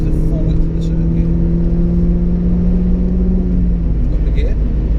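A car accelerating hard on a race circuit, its steady mid-pitched engine note holding loud and close throughout, with a faint rising tone near the end.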